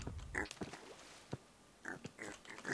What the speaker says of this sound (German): Hier sitzt ein Schweinchen.